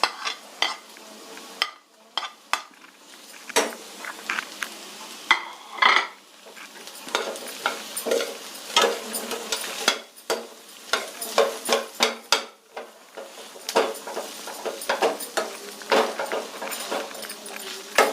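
Onion and potato sautéing in a pan for masala dosa, heard as a low sizzle under busy, irregular spatula scraping and metallic clinks against the pan, close and fairly loud, with brief pauses between bursts of stirring.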